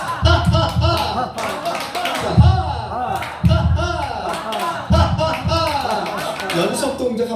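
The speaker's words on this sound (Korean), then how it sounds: "박수도 한번 쳐볼까요?" Group clapping by a laughter-therapy class in a church hall, several uneven bursts of hand claps mixed with laughter and chatter, loud and close.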